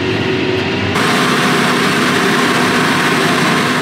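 A John Deere 6R tractor engine working hard in the field, a loud steady drone under heavy load that thickens after the first second and holds without a break.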